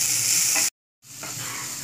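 Onions and chillies cooking with salt and ginger paste in a pan, a loud steady sizzle with a light stirring scrape, cut by a short stretch of total silence before the sizzle returns.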